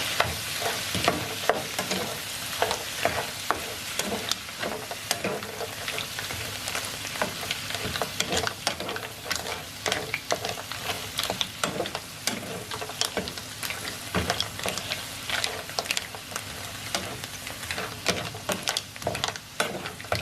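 Small bits of onion and tomato fry and are stirred in a pan for a shrimp and mussels fideuá, a steady close sizzle crackling throughout with scraping stirs.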